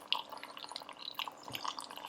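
Liquid poured into a container and filling the gaps between larger pieces at the bottom, heard as faint, close trickling and dripping with scattered small splashes and bubbly pops throughout.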